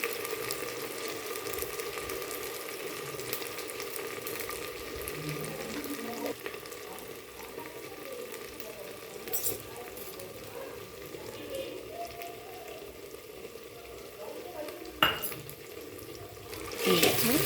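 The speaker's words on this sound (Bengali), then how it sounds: "এরপর মশলাটা দিয়ে দিলাম। মশলাটা খুব ছিটকাবে" Spice paste with salt and turmeric frying in a pan, giving a steady broad sizzle with scattered sharp spits and pops throughout, a louder crackling burst near the end.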